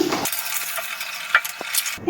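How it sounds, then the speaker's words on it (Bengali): Batashi fish fry in hot oil in a wok, giving a steady crackling sizzle broken by a few sharp scraping stirs. "একইভাবে বাকি মাছগুলো ভেজে নিচ্ছি"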